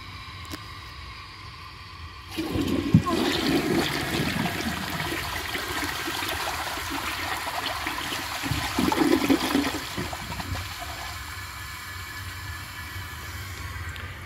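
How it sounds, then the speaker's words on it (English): A 1949 Alamo Pottery toilet tank refills after a flush, with a steady rushing hiss of water that starts abruptly after two seconds of quiet and continues loud and close, with slightly stronger gurgling bursts near three and nine seconds. "let's wait for the tank to fill"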